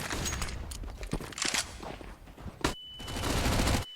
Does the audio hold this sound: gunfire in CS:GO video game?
yes